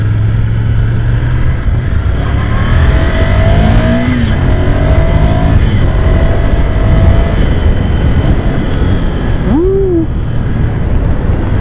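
A Ducati Monster 797 motorcycle engine with standard exhaust drones loudly and steadily, with pitch rising and falling through revs and a brief sharp rise near the end, no voices.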